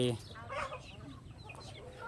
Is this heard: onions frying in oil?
no